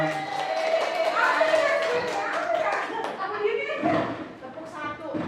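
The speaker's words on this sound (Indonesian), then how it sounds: "Ayo Ibu, tepuk tangan buat Bu Ai dong" Children in a school classroom clap together for their teacher, a busy patter of hands mixed with kids' voices and chatter throughout, fairly close and steady.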